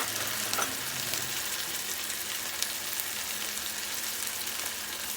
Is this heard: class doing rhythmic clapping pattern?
no